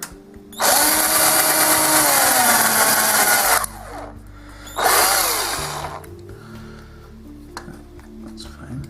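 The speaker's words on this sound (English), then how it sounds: "I'll probably use a drill, I think, to" A power drill runs loud and close in two bursts, a long whine of about three seconds followed by a shorter one that winds down, with quieter handling noises between and after.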